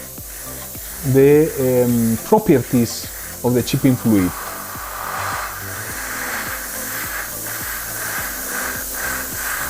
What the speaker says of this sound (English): Now I am just projecting air over the surface to help me to dry faster